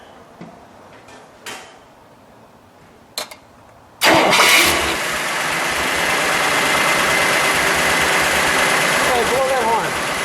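A 1961 Imperial LeBaron engine cranks and fires up loudly after a few quiet knocks and thumps, then settles into a steady, rumbling idle close by, with a voice briefly audible over it.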